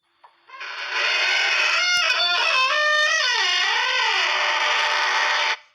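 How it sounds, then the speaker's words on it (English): A squeaky door sound effect from the InShot editing app plays loud and alone, one long creaking squeal that bends up and down in pitch for about five seconds before cutting off. "So that's the sound of a squeaky door."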